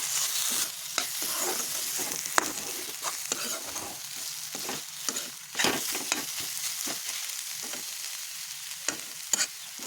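Radish and egg fry with coriander in a pan, with steady sizzling and repeated scraping stir strokes of a utensil against the pan, close and clear with no talking.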